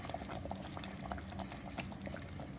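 A pot of okra, coconut milk and cornmeal for coo coo bubbles at a boil, with a dense stream of small pops and gurgles over a steady simmering hiss and no voices.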